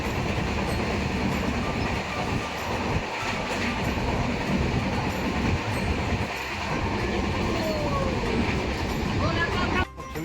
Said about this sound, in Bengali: টাইম মতো চলে এলো আমাদের ধৌলি এক্সপ্রেস